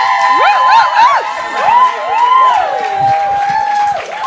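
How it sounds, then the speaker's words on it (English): A live audience at a talk show event cheers, whoops and screams along with applause as a guest is introduced; loud, excited high-pitched shouts and whistles ride over a bed of crowd noise, close and energetic throughout. "Give her a round of applause. Scream, stand up if you like"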